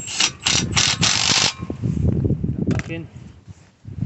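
Brake caliper retaining screw being tightened back in on a car with an electric parking brake, giving rapid loud ratcheting clicks close up, followed by quieter handling noises and a short squeaky turn.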